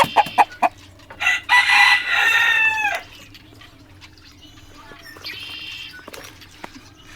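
Farmyard roosters and chickens: a few sharp clucks open, then a loud close rooster crow, followed by quieter clucking and a second fainter crow amid low background noise.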